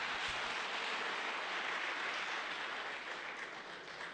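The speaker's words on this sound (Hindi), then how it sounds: "आप आपकी तारीफ पर ताली बजा रहे हो।" Sustained applause from a seated audience at a long public programme, a dense even clatter of many hands clapping at moderate distance that slowly fades toward the end, with no voices over it.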